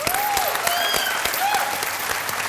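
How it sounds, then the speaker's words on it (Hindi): A studio audience on the Hindi TV game show 10 Ka Dum claps loudly in a dense, sustained burst of applause, with faint musical tones over it. "तालियां"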